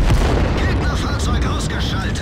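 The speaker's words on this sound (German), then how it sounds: "Meine Damen und Herren, ich serviere Munitionsexplosion." Tank ammunition explosion in a video game, the Bulldog tank on the Lakeville map, heard as a dense roaring burst of booms and crackles, loud and sustained throughout.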